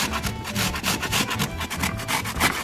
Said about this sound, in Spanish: y rallamos una zanahoria